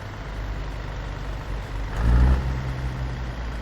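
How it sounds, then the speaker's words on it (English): Caterpillar 3406E diesel engine fitted to a Peterbilt truck in American Truck Simulator, idling with a steady low rumble that swells briefly mid-clip before settling back to an even drone. "And we're using a Zeemods engine, a Zeemods Caterpillar 3406E"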